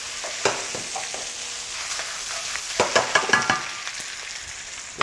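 Scallion, garlic and chili stir-fry in hot oil with a steady close sizzle, broken by scraping clatters of a spatula stirring against the pan.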